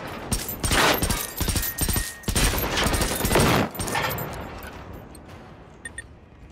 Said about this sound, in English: Look at this gun's recoil